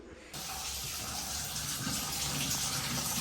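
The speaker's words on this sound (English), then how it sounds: "So I'm pretty much turning the faucets on, making sure there's no leaks." Bathroom faucets are turned on and water runs in a steady, full rushing stream into the sink, starting abruptly and continuing alone at close range during a leak check.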